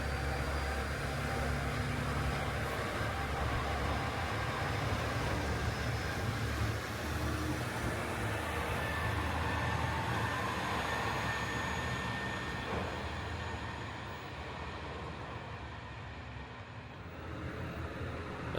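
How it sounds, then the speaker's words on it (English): A train to Toyooka departing Tottori Station rumbles steadily with a low mechanical drone and faint high whine, gradually fading as it moves away. "This is the train to Toyooka, just leaving."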